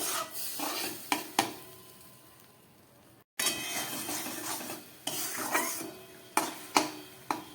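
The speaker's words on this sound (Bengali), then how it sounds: "ডালটাকে একটু ভালো করে কষিয়ে নিলাম।" Red lentils with turmeric are stirred in a pan, a spoon scraping and rubbing against the metal in repeated close strokes with a few sharper knocks, over a faint sizzle.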